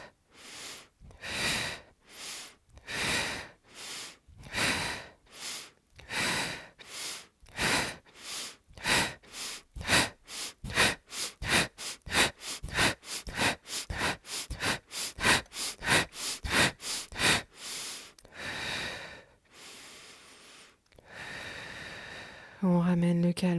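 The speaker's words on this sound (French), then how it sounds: "On inspire, on expire." Rapid rhythmic breathing during a guided abdominal breathing exercise, inhales and exhales in quick succession that speed up steadily over about twenty seconds, then settle into slower breaths; close and clear, with no talking over it.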